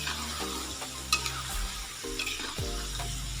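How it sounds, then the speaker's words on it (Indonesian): Potato french fries being fried a second time in hot oil until half cooked, giving a steady sizzle and bubbling with occasional stirring clinks, close and continuous. "Nah baru yang awal tadi kita masukkan lagi ke minyak, kita goreng lagi sampai setengah matang gitu."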